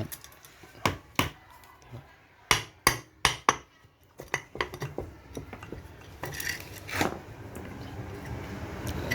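Sharp metallic hammer strikes ring out in an uneven series while disassembling a motorcycle engine, several loud close blows followed by lighter, quicker taps and some clatter.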